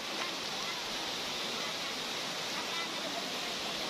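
Water rushing loudly down a high mountain stream, a steady broadband roar that fills the whole clip with no breaks.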